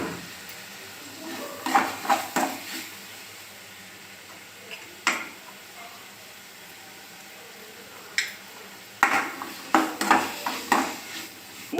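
Tomato rice with a little squeezed lemon juice is mixed in a pot with the stove off. A spoon clinks and scrapes against the pot in short bursts near the start and again toward the end, with quiet pauses between.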